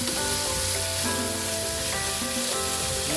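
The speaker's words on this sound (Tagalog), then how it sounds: "Ayan, haluin lang natin siya." Squid frying in a pan with oyster sauce and soy sauce, a steady loud sizzle running throughout with faint stirring scrapes and background music, no talk.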